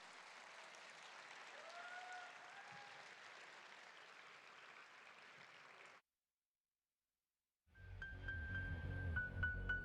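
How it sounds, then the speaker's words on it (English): Audience applause for the Synergy School of Dance team at the Archana 2026 stage event rolls as dense clapping for about six seconds. Then there is a sudden silence, and music starts. "Can we have a big round of applause for the Synergy School of Dance team?"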